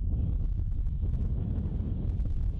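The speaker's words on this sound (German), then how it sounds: "Es ist leider etwas windig." Strong wind on the North Sea coast buffets the microphone in a continuous low rumble, steady and loud throughout with no voices.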